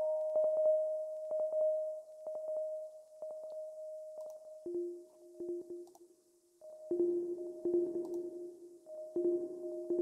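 An ambient synthesizer patch in Ableton Live, run through delay and echo, plays soft sustained tones that step between two pitches, with repeating clicky pulses and echoed tails over quiet gaps, no voices.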